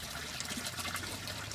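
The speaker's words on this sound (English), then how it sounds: "you'll see that there's water coming from the impervious surfaces of the property," Runoff from a property's driveway, drains and gutters trickles steadily out of drainage pipes at a site work area, a constant close rushing wash of water with no pauses.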